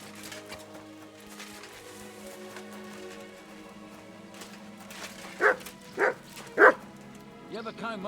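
Dog in the video game Kingdom Come Deliverance II whimpering and yipping, three short distinct whines close together near the end over a quiet ambient game background.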